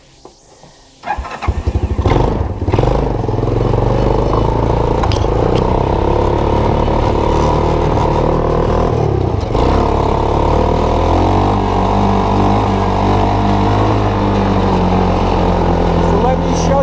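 An ATV-powered EZGO golf cart with a custom exhaust cranks and catches, then holds a steady, loud, close engine run with a throaty rumble.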